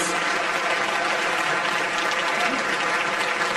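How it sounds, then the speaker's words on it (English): A luncheon audience applauding distinguished guests and junior hostesses at a First Lady's event with congressional spouses, a loud continuous roar of many hands clapping at an even level throughout. "please give a round of applause for our distinguished guests and junior hostesses"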